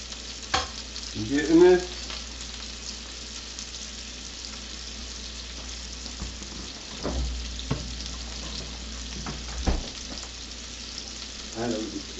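Butter sizzling in a hot frying pan, a quiet continuous fry with occasional clinks and stirring bumps while a person speaks briefly.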